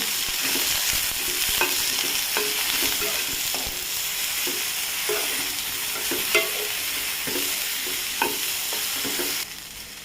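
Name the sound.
okra frying and being stirred in a pan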